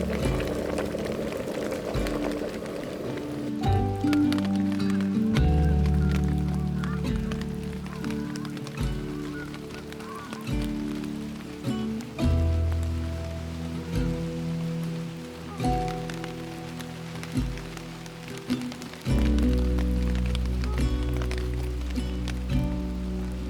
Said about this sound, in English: I watch the sheets of rain pass across the water and shroud the hills